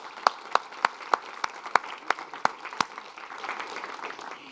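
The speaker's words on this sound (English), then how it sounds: "Please, a big applause as well for them" At a youth climate dialogue event, a few people clap with sharp, evenly spaced claps standing out over a softer crowd patter, the distinct claps stopping partway while the murmuring applause carries on.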